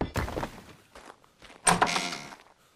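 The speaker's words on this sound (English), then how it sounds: "Let's put ourselves a door here." A door is set in place while building in Ark Survival Evolved, giving a short solid thunk with a brief rattling clatter, preceded by muffled shuffling and bumps.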